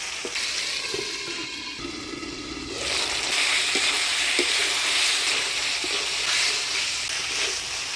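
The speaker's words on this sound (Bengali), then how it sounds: "মশলার সাথে আলু শিমটা ভালো করে কষিয়ে নিলাম।" Potatoes and flat beans cooking down with ground ginger, cumin and chilli paste in a pan give a steady, moderately loud sizzle that swells partway through, with a few soft stirring knocks.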